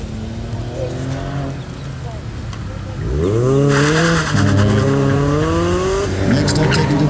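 Autocross race car running a Central Florida SCCA course, the engine revving up and down in repeated sweeps with tire squeal, loud and close, under an announcer's voice.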